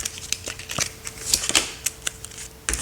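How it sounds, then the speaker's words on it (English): A deck of angel oracle cards being shuffled by hand, giving close, crisp riffling bursts and quick papery flicks in an irregular rhythm, with no talking. "I'm going to shuffle again just to give them a little refresher"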